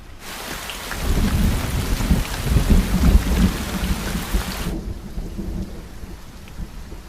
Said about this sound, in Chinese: 没看见下雨吗？